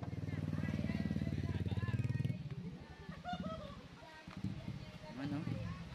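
A motorcycle engine drones loudly and close for the first two seconds near a hanging bridge, then cuts away to people chattering over outdoor background noise.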